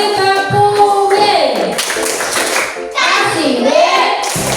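A primary school class claps a rhythmic cheer pattern after a group presentation. Bursts of clapping mix with children's chanting voices, loud and close, in a lively, uneven rhythm.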